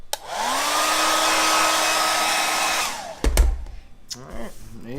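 A hair dryer blows steadily on a re-dyed, top-coated leather panel for about three seconds, a loud constant whoosh with a rising whine, then clicks off, followed by a few handling knocks and rustles.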